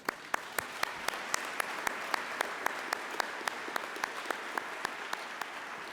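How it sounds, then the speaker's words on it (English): Applause for the speakers at an affordable housing symposium, a thin spread of audience clapping with a few sharp, loud claps standing out in a steady rhythm. "Now let's have a big round of applause for all of our speakers."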